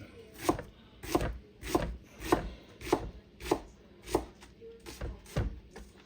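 A knife dices an onion on a cutting board with about ten crisp, evenly spaced chops, roughly one every half second. The chops are close and moderately loud, with no talking.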